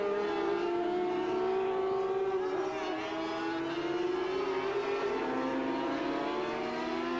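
A racing sidecar engine at a 1990 Donington Supercup round howls as it accelerates along the straight through the gears, a loud, continuous rising whine with gear-change dips, heard at trackside.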